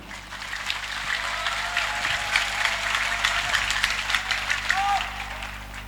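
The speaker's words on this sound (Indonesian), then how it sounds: "Tepuk tangan untuk semuanya." A crowd claps at a large Islamic religious gathering held for Indonesia's 75th Independence Day at a pesantren. The clapping is dense and sustained, with some voices mixed in.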